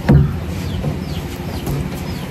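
Free-roaming backyard chickens clucking near a hut by a fishpond, with one louder close cluck at the start followed by softer scattered clucks and faint bird calls.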